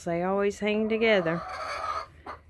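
Backyard hens make a few close, short clucks while someone speaks over them.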